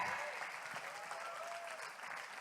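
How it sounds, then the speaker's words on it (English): A conference audience applauding at an event opening, a dense wash of clapping heard from a distance and fairly faint, holding steady for a couple of seconds. "So give a round of applause for WPP Stream Indonesia this year."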